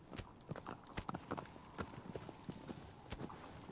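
A horse gallops in the video game Shadow of the Colossus. Its rapid, uneven clip-clop hoofbeats are close and loud, repeating steadily without a pause.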